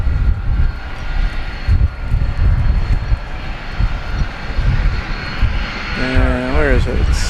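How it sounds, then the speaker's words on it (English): A British Airways Airbus A380 arrives from London Heathrow. Its engines give a loud, steady roar with some rumble, and a short whining tone rises near the end. A voice talks over the noise. "The British Airways A380 coming in from London Heathrow after missing a turn yesterday."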